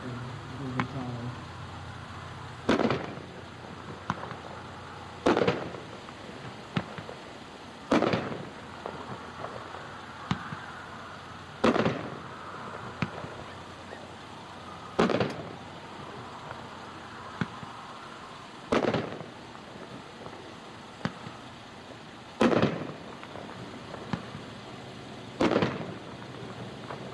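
A Rhapsody consumer firework cake, new for 2016, fires at an outdoor dealer demo show: sharp booms at regular intervals of about three seconds, heard from a distance, with faint voices between shots.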